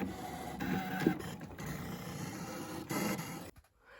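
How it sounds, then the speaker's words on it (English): A papercraft cutting machine slicing out gift box pieces whirs and rattles steadily at close range, with a brief louder scrape midway, then cuts off near the end into quiet. "I know lots and lots of people have a cutting machine. That's what I'm using. So I'm going to cut all of those out."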